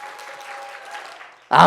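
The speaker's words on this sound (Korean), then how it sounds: "다시 한번 박수 한번 쳐보세요" A church congregation at a Friday worship service claps steadily in a soft, even wash behind a faint sustained tone, then the applause swells into a louder burst at the end.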